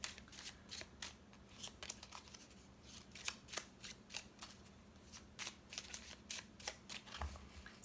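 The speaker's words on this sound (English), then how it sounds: "I'm going to do a little shuffling." Tarot cards are shuffled in quick, crisp riffles and snaps, close and quiet, in an irregular rhythm of short bursts without speech.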